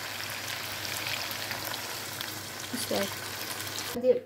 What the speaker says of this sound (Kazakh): Үстінен бір 2 кружка су құямын.